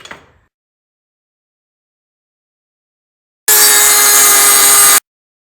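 A metal bracket being cut off a brake caliper with a power tool, a single loud, harsh, high-pitched burst of about one and a half seconds after a long silence, close by.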